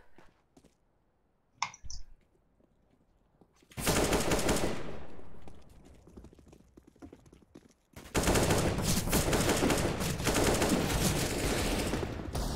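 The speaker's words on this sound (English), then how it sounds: "I tried giving some shots" Counter-Strike: Global Offensive gunfire erupts in dense automatic bursts, two long loud volleys separated by quieter gaps with a few sharp clicks early on.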